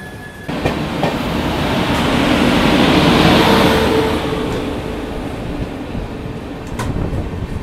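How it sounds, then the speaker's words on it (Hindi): Two Indian Railways trains, the Mahabodhi Express and the Tejas Express, cross close by in a loud rushing roar with rattling clatter that swells to a peak and slowly fades, with brief sharp clanks along the way. "और अभी थोड़ी देर में क्रॉसिंग अपनी होने वाली है लखनऊ नई दिल्ली IRCTC तेजस एक्सप्रेस के साथ"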